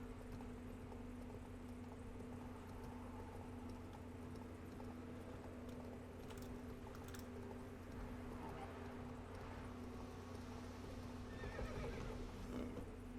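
Roach, a horse in The Witcher 3, whinnies and clops its hooves at moderate distance over a steady low game ambience, with faint voices talking in the background.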